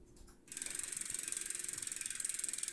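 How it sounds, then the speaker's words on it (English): Rapid, steady ratchet clicking from the freewheel hub of a restored 1980s Miele road bike wheel being spun, loud and close with no talk, starting after a brief quiet moment. "Hub sound."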